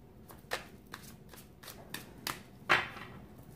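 A deck of Guardian Angels oracle cards is shuffled by hand, giving soft, separate riffling bursts at uneven intervals, faint and close, with no talk.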